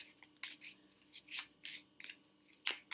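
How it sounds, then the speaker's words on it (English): Tarot cards being pulled and shuffled from a deck, giving repeated short papery swishes and slides at a close, even pace, with no voices. "I'm just pulling the cards now"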